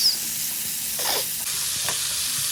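Potatoes, green chilli and garlic hit hot mustard oil in a pan, giving a steady bright sizzle with a couple of brief stirring scrapes, close and continuous without talk.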